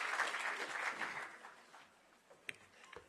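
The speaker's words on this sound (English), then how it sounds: "Please welcome her with a round of applause." Audience applause welcoming a speaker to the podium at a formal event, a fairly faint burst of clapping that fades out over a couple of seconds, followed by a few isolated knocks.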